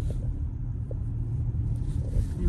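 Vehicles pass on a nearby road, a low, steady rumble that swells slightly toward the end, moderately faint with no clear talk over it.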